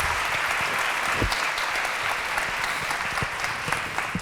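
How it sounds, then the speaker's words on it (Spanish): Sustained applause from a sizeable audience, dense and even throughout, with no speech over it. "Un aplauso para Marwan."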